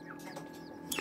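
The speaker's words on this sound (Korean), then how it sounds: "닭 중에선 제일 작은 병아리랍니다." A tiny chick, the smallest of the chickens, peeps in a few thin high calls with a sharper cheep near the end, faint and close against quiet background.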